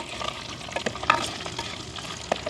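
Cinnamon, cardamom, fennel and mustard seeds fry in hot oil in a village kitchen, a continuous close sizzle with scattered pops and crackles and no talk.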